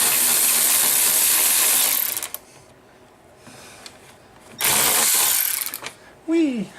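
Socket ratchet clicking during a winch install on a 2018 Arctic Cat/Textron Alterra 500 ATV, two loud bursts of dense ratcheting separated by a quiet pause, ending with a short rising whistle-like tone.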